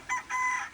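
A rooster crows in two short bursts, with nearby chickens audible around the call, fairly close and clear with no talking.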